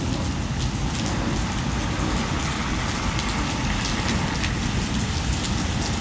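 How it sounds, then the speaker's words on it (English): Torrential Florida rain pours down in a steady, loud, unbroken hiss of drops drumming on surfaces, with no voices. "Just absolutely torrential downpouring."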